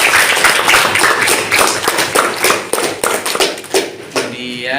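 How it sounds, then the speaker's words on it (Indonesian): A classroom of university students claps their hands in a loud, close burst of irregular claps and taps that lasts a few seconds before tapering off. "Tepuk tangan."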